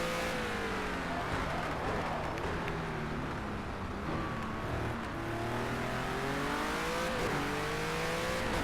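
Engine of a GT3 race car in a racing video game, Renault among the cars, droning and revving loudly throughout with rising and falling pitch sweeps as gears shift, a faint tire squeal, no talking.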